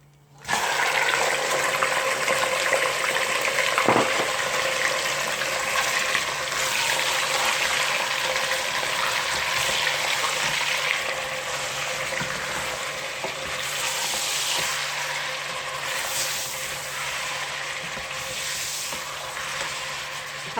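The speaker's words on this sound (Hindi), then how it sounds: "अब चिकन को 1-2 मिनट फ्राई करूँगी इसमें" Chicken pieces frying in a pan for chicken korma, a steady loud sizzle and hiss that runs unbroken with a faint clink near the start, no voice heard.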